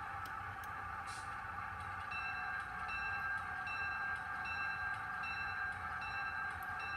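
Model railroad locomotive run with an Iowa Scaled Engineering ProtoThrottle, giving a steady, quiet electric hum and whine with faint ticking and clicks throughout, no voices.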